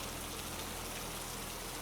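Steady rain falls as a soft, constant broadband hiss, even and unbroken throughout, with no voices.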